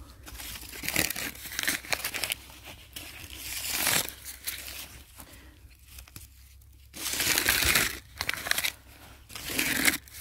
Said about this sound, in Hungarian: Szedem össze ezeket a papírokat.